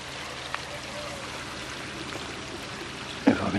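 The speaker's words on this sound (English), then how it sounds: "there's the skimmer, you can see the water flowing into it" Water flows into a pond skimmer and its net, making a steady, close trickling and gurgling stream that runs throughout, with a small splash near the end.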